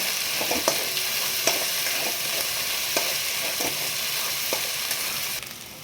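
A paste of coconut, onion, garlic and ginger fries in a pan for a spicy Maharashtrian masul vadi curry, a steady close sizzle broken by several soft spoon scrapes and taps.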